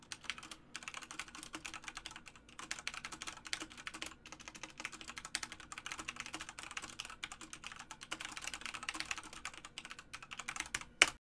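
Typing on a computer keyboard, picked up by a Blue Yeti condenser microphone: quick irregular key clicks in bursts and short pauses, close and fairly soft, with no talking.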